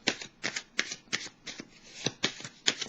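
Tarot cards are shuffled and drawn, a run of crisp riffling bursts about every third of a second, close and fairly quiet with no voice.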